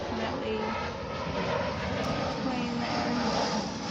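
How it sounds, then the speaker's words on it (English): An airplane flies high over the clouds above a Central Florida garden, giving a steady, distant engine drone that holds at an even level throughout. "can we see the plane over the clouds?"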